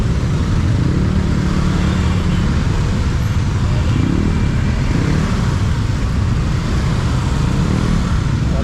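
Dense highway traffic on MacArthur Highway in Bulacan, heard from a Honda CB150X motorcycle: a continuous, loud roar of engines and road noise surrounds the rider, with a faint voice now and then.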